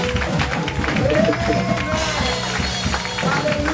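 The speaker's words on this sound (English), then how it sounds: "If you are clapping up to the Lord, it can be louder." A church congregation claps along during a praise night anniversary celebration, steady hand claps blending with singing and crowd noise throughout.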